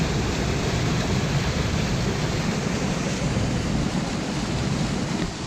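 Skelwith Force, a waterfall on the Cumbria Way, roars as a steady, loud, broadband rush of falling water, constant and unbroken throughout with no voices.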